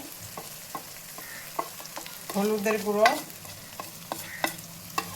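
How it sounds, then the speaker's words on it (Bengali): Ginger, garlic and ground spices fry in a pan for mutton curry, a soft sizzle with frequent spoon taps and scrapes, while someone briefly speaks over the stirring. "আদা রসুনটা ভাজা হয়ে গেছে, এবার জিরের গুঁড়ো দিলাম, ধনের গুঁড়ো,"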